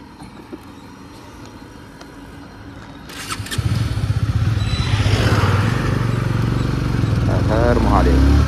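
A motorcycle engine fires up and settles into a steady running drone as a ride begins on a highway near Haveri, growing louder and closer after a quieter start with a voice in the background.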